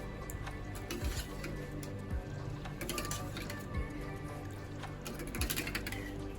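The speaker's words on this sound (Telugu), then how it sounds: "ఇది బాగా కలుపుకోవాలన్నమాట" A spoon stirs curd mixed with green chili paste, making soft wet squelches and occasional clinks against the vessel, spaced irregularly at a close, moderate level.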